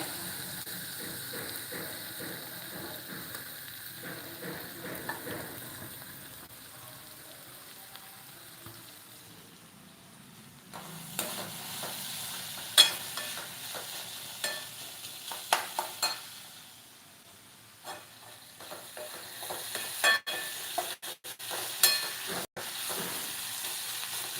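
Homemade sambar bubbles in a pot with a soft, continuous simmering hiss, broken later by a scatter of sharp clicks and knocks from stirring and utensils, with no one speaking.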